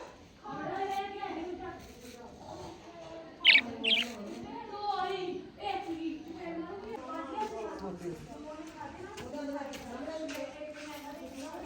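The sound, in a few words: pet parrots chirping in a cage hung on a tree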